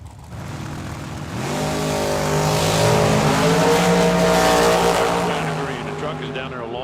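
A dragster and a truck race down a drag strip at a track-side event, engines rising in a loud roaring sweep that peaks mid-run and fades slightly, with an announcer talking over it.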